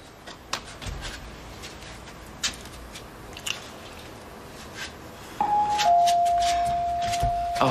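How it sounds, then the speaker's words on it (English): A doorbell rings in a quiet home, a clear ding-dong tone sounding once near the end and sustaining briefly, after scattered soft taps and handling noises. "It's called the doorbell. It means someone's here."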